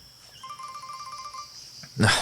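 A short electronic ringtone melody plays quietly, a repeating chirpy tone pattern, ending in a sudden louder burst of noise.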